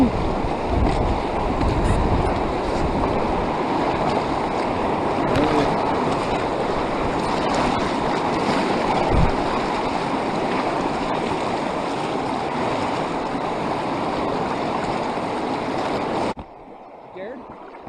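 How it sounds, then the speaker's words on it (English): River rapids rush loudly and continuously past a pontoon boat on the Green River during a fly fishing trip, a dense roaring wash of water that cuts off abruptly near the end. "Another rapids."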